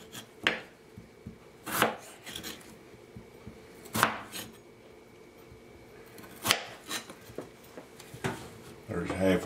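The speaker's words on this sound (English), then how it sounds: "Now the other half, you just cut in here at an angle" A knife cuts potato into bite-sized pieces on a board, giving about six sharp, separate thunks spaced a second or two apart, with a voice talking softly between the cuts.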